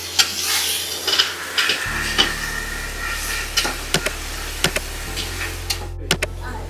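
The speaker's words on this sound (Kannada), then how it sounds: "ಈಗ ಎಣ್ಣೆಯಲ್ಲಿ ಚೆನ್ನಾಗಿ ಹುರ್ಕೊಳ್ಳೋಣ" Mutton chops, about a kilogram, frying in hot oil in a pan, a steady close sizzle with repeated sharp scrapes and taps of a spatula stirring the meat, no talking.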